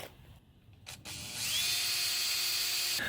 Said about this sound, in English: you use some self-tapping screws like this to combine them